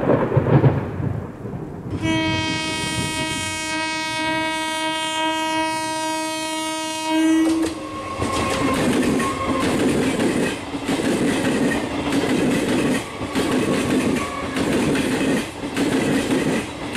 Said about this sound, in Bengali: রায়পুরের ট্রেন ইঞ্জিনটা নিকষ কালো ধোঁয়া নির্গত করতে করতে গন্তব্যের দিকে এগোতে থাকলো।